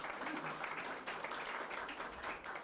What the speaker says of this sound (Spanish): por tus palabras, un aplauso